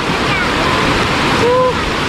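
Heavy waterfall at Tad Pha Sadet with a lot of water pouring over a cliff: a loud, continuous broadband roar filling the whole clip, with a faint whistle-like tone near the end.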